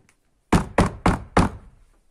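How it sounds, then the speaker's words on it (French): Four loud, evenly spaced knocks on a wooden cabin door ring out alone after a moment of silence, part of a pirate story. "on dirait qu'on frappe à la porte de la cabine."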